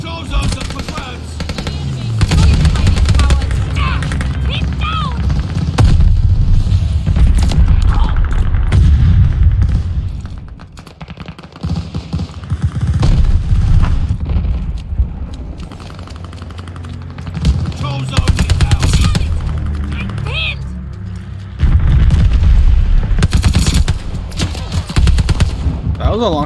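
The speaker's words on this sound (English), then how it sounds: "Allies call the bombing run." Gunfire and explosions from a bombing run in the Call of Duty Vanguard video game, with dense bursts of shots and heavy booms loud throughout, fading briefly mid-way before resuming.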